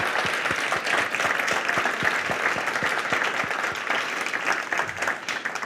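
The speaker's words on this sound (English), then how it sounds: "Let's give a big round of applause for our panelists." An audience at a humanitarian conference session gives the panel a round of applause, sustained mixed clapping with distinct individual claps standing out, moderately loud and continuous throughout.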